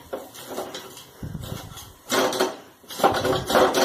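Rabri cream layers scraped from a pan with a metal spoon, producing close scraping, clinking and knocking against the metal in uneven bursts, growing louder toward the end.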